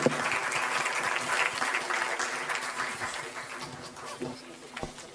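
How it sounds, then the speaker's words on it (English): Audience applause after a school aviation careers session with airline pilots, steady clapping from a roomful of people that holds evenly and then thins out toward the end, with a few scattered louder claps. "Once again, a round of applause for all of them."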